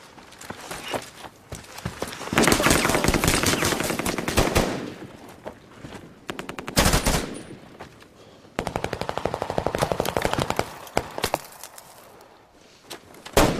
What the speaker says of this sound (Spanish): ¿No escuchaste los tiros?